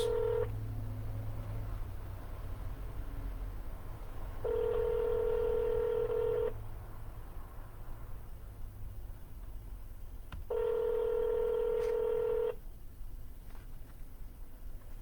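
Telephone line tones during a real estate cold call: three steady two-second tones separated by long pauses, fairly quiet over a faint background hiss.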